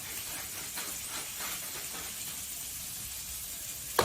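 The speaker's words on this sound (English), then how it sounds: "meatballs sizzling away" Highlander meatballs sizzling in a pan on a cooker, a faint, steady hiss running throughout with one small knock near the end.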